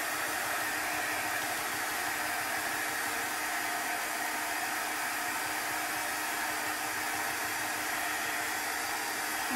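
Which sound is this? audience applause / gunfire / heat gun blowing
heat gun blowing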